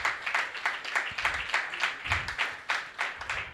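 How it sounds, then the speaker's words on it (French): Crowd applause for invited guests at a tribute to the Beninese army in Calavi, a dense steady patter of many hands clapping for a few seconds, fairly close and even in loudness. "Applaudissons très fort pour nos invités du jour"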